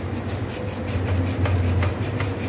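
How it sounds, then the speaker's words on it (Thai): A bicycle, a FELT model, scrubbed and polished by hand in a shop, giving a steady dry rubbing rasp with brief repeated strokes over a low background hum. "นี่นะฮะขัดทั้งหมด"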